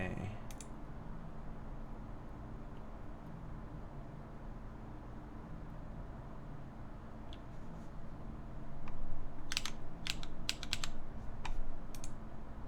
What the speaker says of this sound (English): it sounds really good with just normal typing instead of like using like a typing test